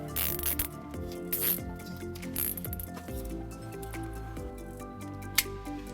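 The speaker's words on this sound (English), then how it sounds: "we'll go ahead and secure it using some zip ties" Zip ties are ratcheted tight around trailer wiring on a 2015 Nissan Xterra, producing close, repeated zipping clicks and short rasping bursts in an uneven rhythm, with no talking.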